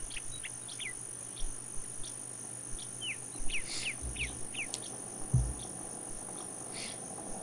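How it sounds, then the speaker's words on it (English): Birds chirp and tweet in short repeated bursts within the game Infestation: Survivor Stories, set against a steady insect-like buzzing ambience, with a couple of low thuds partway through. "There's a bird chirping exactly to my step"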